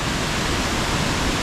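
Stuibenfall waterfall in Austria, beside a via ferrata climbing route, roars as a steady, dense wash of falling water that fills the whole moment without pause, close and loud, with no voices.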